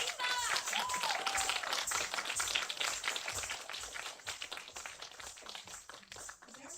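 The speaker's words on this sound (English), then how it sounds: "Give another round of applause." A variety TV show's studio audience claps in a dense, continuous patter that stays fairly faint and even, with a short voice at the start.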